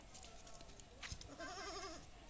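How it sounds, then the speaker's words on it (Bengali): A young goat gives a quivering, high bleat partway through, fairly faint against a soft background hiss. "এই ছাগলের বাচ্চাটা কিন্তু"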